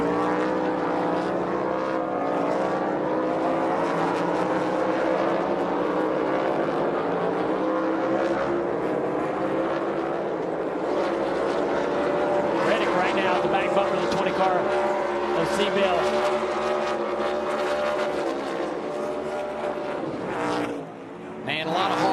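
NASCAR Cup Series race cars run side by side for position, with a continuous loud engine roar throughout and a commentator talking over it.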